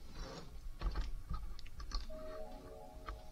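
Keys tapped on a computer keyboard during a video game, a few irregular, close clicks and clacks over a steady electronic tone from the game.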